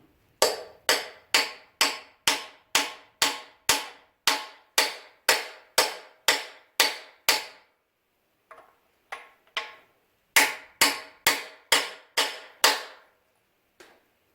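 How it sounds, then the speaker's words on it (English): Brass freeze plugs are hammered into a 1990 350 engine block with sharp, loud, evenly spaced metallic blows: a long run of about fifteen strikes, a pause with a few lighter taps, then another quick burst of hits. "Now I'm going to put my freeze plugs in."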